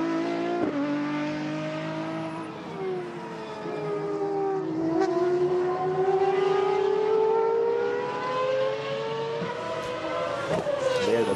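Pagani GT1 race cars run a track session, engines rising and falling through gear changes as they pass, moderately loud with a brief tire squeal.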